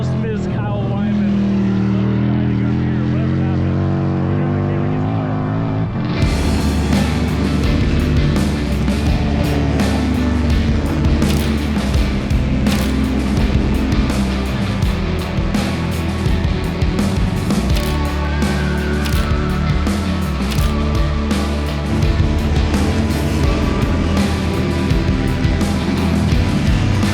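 King of the Baggers race motorcycles roar past at a MotoAmerica race, loud and close engine noise that builds sharply after a quieter start and stays dense with rising and falling passes throughout.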